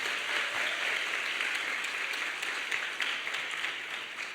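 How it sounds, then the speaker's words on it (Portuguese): A crowd at a church conference applauds steadily for several seconds, a dense, even wash of clapping that fills the room without pause. "Será que você pode dar uma salva de palmas para Jesus?"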